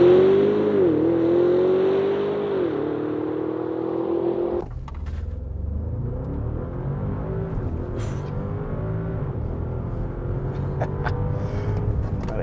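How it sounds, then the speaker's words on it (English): A 2023 Bentley Bentayga S launched at full throttle in a 0-100 km/h run, its engine note climbing loudly then dropping at a hard gear shift into a deeper rumbling pull, heard from inside the cabin with no talk. "That is a violent gear shift."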